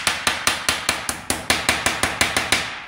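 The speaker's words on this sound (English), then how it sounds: "I'm gonna do is go through with just my body hammer" A body hammer strikes the cut, sheared edges of a sheet-metal rear floor pan for a 1967 Kaiser Jeep M715, flattening the curl: about fourteen sharp, ringing metallic blows in a steady, even rhythm, close and loud with no talking.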